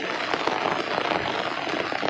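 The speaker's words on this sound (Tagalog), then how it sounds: "Nababasa na ulan." Dense, steady patter of rain falling on a surface, a constant hiss of drops with no voices.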